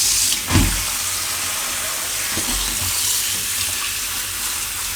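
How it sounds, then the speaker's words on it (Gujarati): Water runs from a kitchen tap as kalimali greens are washed beneath it, making a steady splashing rush. A sharper splash comes near the start, with small bumps of handling later on. "નળ નીચે ધોઈ નાખીશું."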